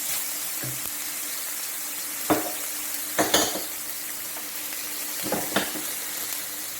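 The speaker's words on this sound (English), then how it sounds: "let the onions become translucent. Okay, saute that for about 2 to 3 minutes." Onions sauté in a pan for a Trinidadian smoked herring and tomato dish. A steady close sizzle carries on throughout, broken by a few sharp clacks of stirring.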